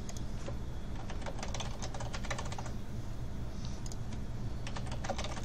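A password typed on a computer keyboard: quick, faint clicking keystrokes in short irregular bursts with brief pauses, close over a low background hum, no talk.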